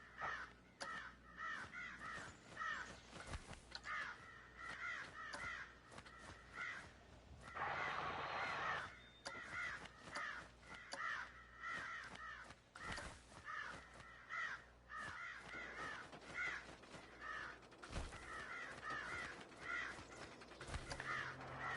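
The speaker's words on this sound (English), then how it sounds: "we have crows here, but not like a ton of them" Crows cawing in the Planet Coaster park-building game, repeated harsh caws in rhythmic bursts over a faint background, with a short noisy rustle in the middle and occasional clicks, no talking.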